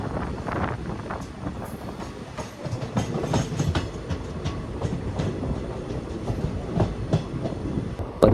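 A passenger train rolls past Madukkarai railway station in the Palakkad Gap, with steady wheel rumble and rhythmic clickety-clack on the rails throughout. No one speaks.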